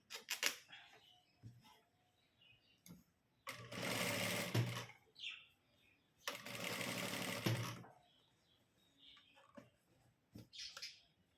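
Sewing machine stitching a sleeve onto a garment at the shoulder, two loud sustained whirring runs of rapid needle strokes, separated by quiet handling of fabric and a few clicks and shorter bursts.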